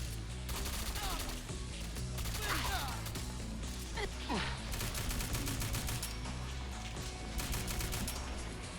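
Automatic Desert Eagle pistol firing in Fallout 4, a loud, dense stream of rapid gunshots going on for nearly nine seconds with short pauses between bursts, heavy and close.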